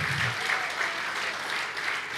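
A church congregation claps during an online worship service, a steady wash of applause throughout the short stretch with no one speaking.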